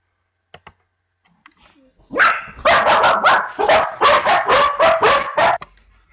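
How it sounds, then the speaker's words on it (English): Several dogs bark loudly and continuously indoors after a knock at the door, a dense close volley of overlapping barks lasting about three seconds, preceded by faint clicks. "sorry about the dogs, folks"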